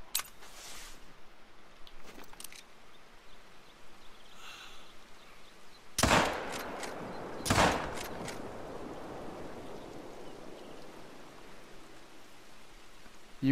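Two sharp 45-70 lever action rifle shots boom out in a hunting video game set on a coast, a couple of seconds apart, each with a rolling tail over a soft rain-like ambience.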